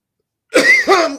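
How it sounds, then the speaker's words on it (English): A person coughs, a short rough two-part cough with a throaty, voiced edge, loud and close after a moment of silence. "I'm coughing like crazy."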